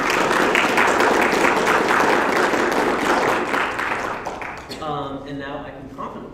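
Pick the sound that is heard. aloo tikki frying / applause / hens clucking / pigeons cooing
applause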